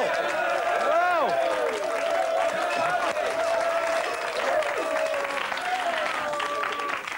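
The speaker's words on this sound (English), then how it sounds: "Come on, a few claps here." A studio audience claps steadily at a 1994 Wimbledon show, sustained applause mixed with whistles and tonal effects beneath it, with voices heard over the clapping.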